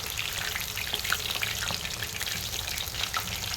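Chicken lollipops frying in oil and being flipped one by one, a dense bubbling sizzle heard close and steady throughout.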